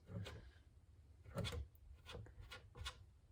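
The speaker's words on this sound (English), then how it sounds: "you're going to be freehand sanding it with the tip of your finger" Soft scratchy rubbing strokes, four or five irregular passes of light hand sanding with a fingertip on a 3D-printed plastic helmet, close and quiet, no voices.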